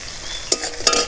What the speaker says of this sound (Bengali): পেঁয়াজ রসুন আর টমেটোটাকে আর একটু ভেজে নেব।